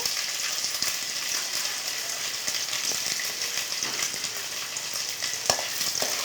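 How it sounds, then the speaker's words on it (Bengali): Grated coconut with taro and potatoes fries in a pan in a vegetarian Bengali dish, giving a steady close sizzle with light scraping of a spatula stirring. "এবার এটাকে একটু নেড়ে ছেড়ে নেব"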